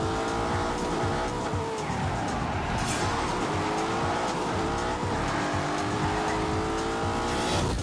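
A racing car lapping a track in The Grand Tour video game, its engine droning loudly and steadily throughout with shifting pitch and bursts of tyre squeal.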